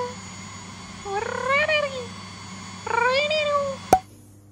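A cat meows twice in a home, each a drawn-out rising-then-falling call about a second long, near and clear, followed by a short sharp knock.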